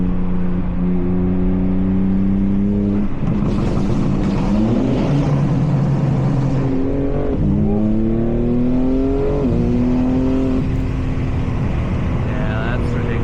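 A BMW G80 M3 LCI with its secondary catalytic converter and resonator deleted revs loudly nearby. The engine note rises and falls in sweeping pulls, with people talking over the exhaust.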